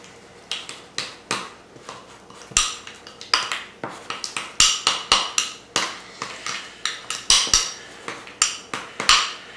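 Utensils scrape and clink rhythmically against a bowl as gourmet garlic seasoning is stirred into a dip, a steady run of close, bright taps and chinks with no talking.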